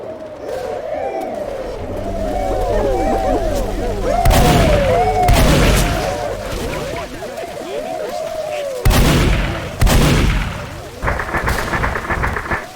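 Shotgun blasts from the Left 4 Dead 2 video game, several loud bursts spaced over the stretch amid chaotic game sounds, a tonal background score and crowd-like noise.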